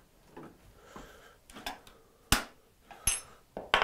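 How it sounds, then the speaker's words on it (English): A mallet taps a Stanley 45 combination plane to loosen a cutter, several sharp metallic knocks spaced irregularly among softer handling clatter, close and fairly quiet. "I need a mallet."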